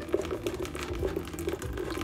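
Water from a one-week-old hydroponic system is slowly released into a bucket, making a steady close-up trickle and splash with a continuous running-water texture and small irregular bubbling pulses.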